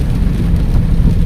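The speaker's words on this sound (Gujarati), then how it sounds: "હજી એમનો વરસાદ છે, આવો ને આવો." Heavy rain falls steadily in Rajkot city, a dense, loud, continuous hiss and rumble with no voices.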